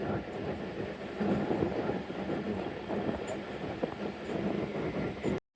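The Shalimar Express runs slowly, at about 30 km/h, on the Shorkot section just after a flood, heard from inside as a steady rumble and rattle of wheels on rails, with faint clacks and a brief squeal.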